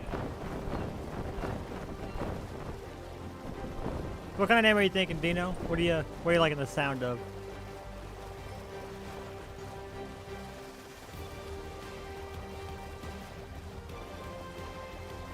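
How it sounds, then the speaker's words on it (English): Steady light rain in the Cottage World video game hisses softly throughout, with a person talking over it and a brief tonal burst near the middle. "Just in time for it to start to rain."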